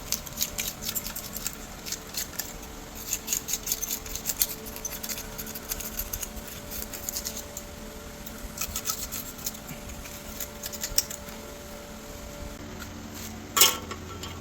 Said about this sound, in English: Then you're going to scrape this off nice and clean.